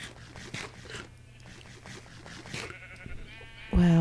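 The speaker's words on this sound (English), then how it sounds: "Oh, I got some sheep, which should be very obvious." Sheep bleat in a Minecraft-style video game, several short calls spread across a few seconds at moderate level over a quiet background, with a sharp louder sound at the very end.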